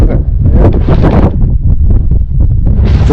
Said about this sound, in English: The biting wind now.